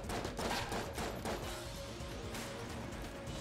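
Rapid machine-gun fire from the Tommy Gun Ghost enemy in the video game Enter the Gungeon, a dense burst of bright shots at moderate level that fades into a softer, rattling tail.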